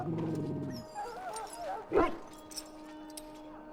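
A Mabari war dog in the game Dragon Age: Origins gives a few yips and a whimper, close and moderately loud, with faint speech and game ambience around it.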